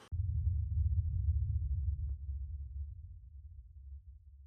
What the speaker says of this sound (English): Aftershock rumble. This comes from Alchemy. One of the sound effects, just a big ol' boom.